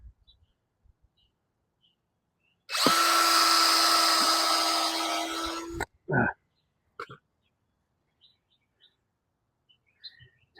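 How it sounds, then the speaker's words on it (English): Silence, then a power drill with a dull bit whirs loudly for about three seconds and stops, followed by a few brief clicks and small high chirping sounds. "Oh, that's a dull drill bit."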